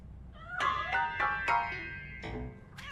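A cat in the video game RoboCop: Rogue City gives a string of about five or six clear, close meows in quick succession, some rising and some falling in pitch, with no talking.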